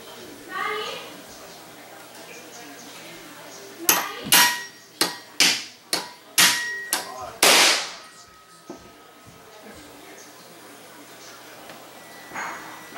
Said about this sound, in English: I'm setting the nail right into the pre-drilled spot so that I know I don't split the wood